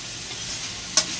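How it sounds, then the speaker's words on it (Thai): Pork belly stir-fried in a pan for a basil dish gives a steady close sizzle, with one sharp spatula scrape near the end and no talk. "พอลวนไปเรื่อยๆจนหมูสุกตึงเนี่ยครับ"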